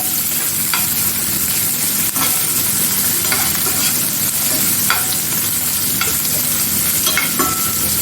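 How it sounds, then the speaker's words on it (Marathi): Onions sizzle and crackle in hot oil as a tempering, with occasional stirring scrapes of a utensil against the pan; no voices. "आपण घेतलेला कांदा आहे फोडणीसाठी साधारण अर्धा तो टाकूया तो पण आपण चांगला परतून घेऊया"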